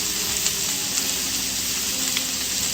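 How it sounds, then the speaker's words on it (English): Vegetables sautéing with a sprinkle of salt in a single pan for a cod and garden vegetable dish give a steady, close broadband sizzle with a few faint ticks, and no voices. "Saute that a little bit more."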